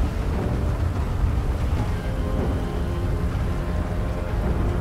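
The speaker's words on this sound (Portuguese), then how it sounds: "Não tem como eles me ouvir porque está trovejando e fazendo muito, muito barulho." Heavy rain pours with thunder in the GTA 5 video game, a dense, steady roar of downpour with low rumbling underneath that fills the whole stretch without a break. No voices are heard.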